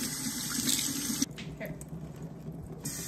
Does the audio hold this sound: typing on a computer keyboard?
no